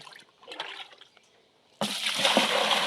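Irrigation water trickles softly at first, then surges into a loud, steady rush of flowing water that continues to the end.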